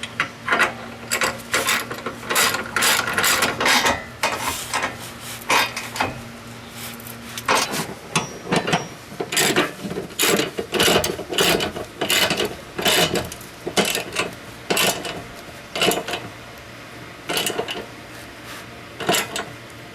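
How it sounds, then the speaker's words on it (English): Ratchet tightening the body mount bolts of a Jeep Wrangler Unlimited rock slider, rapid clicking strokes in uneven bursts, close and fairly loud, with some metallic clanks between. "we're going to tighten all the body mount bolts first, and then all the little bolts afterwards"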